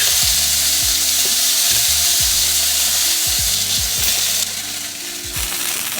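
Beef pieces sizzle loudly in a hot pan, a dense steady crackle throughout, with repeated low knocking and scraping thuds from stirring or placing the meat, dipping slightly quieter near the end.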